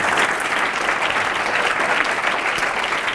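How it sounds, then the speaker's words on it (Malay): Loud, close, thunderous applause from a crowd of students at a motivational talk, dense and unbroken throughout. "Boleh tak Banin dan Banat berikan tepukan gemuruh kepada Prof kita?"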